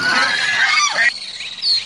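Cartoon ducks from a farmer's small village duck farm call in a loud, busy cluster of nasal honks and quacks, with a sliding squawk in the middle and a sharper call near the end.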